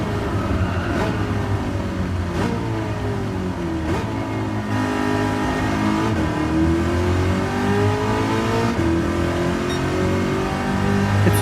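Race car engine in a racing video game, a steady loud drone that rises in pitch through repeated gear changes and drops at each shift, running continuously without talk.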